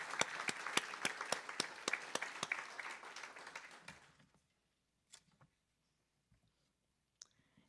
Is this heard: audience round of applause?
yes